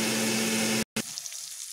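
Flat beans frying in a pan with salt and turmeric give off a steady, loud broadband sizzle that cuts out briefly, then returns softer and thinner.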